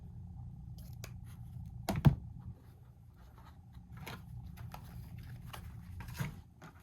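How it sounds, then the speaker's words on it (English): Scissors snip through lengths of ribbon for a deco mesh wreath bow, a few sharp close clicks and cuts scattered over quiet room noise, with soft handling rustles between them. "I'm going to cut 3 pieces of each of my ribbons at 12 inches."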